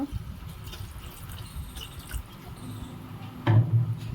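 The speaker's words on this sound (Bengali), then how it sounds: "তো এবার দিয়ে দেবো জল সামান্য" A small splash of water goes into vegetables cooking in oil in a pan, a short wet trickle and drip followed by a brief louder spatter near the end.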